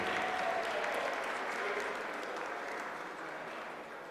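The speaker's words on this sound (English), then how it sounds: "Lot of applause indicates that till now the performance has been nominal." Staff in mission control applaud during the Chandrayaan-3 lunar descent, a sustained, even burst of many hands clapping in a large room that tapers off gradually.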